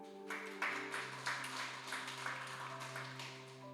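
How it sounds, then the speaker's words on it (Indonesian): A church congregation at a Sunday service gives a soft, steady round of applause over a sustained keyboard chord, the clapping quiet and somewhat distant. "Kasih tepuk tangan bagi Tuhan"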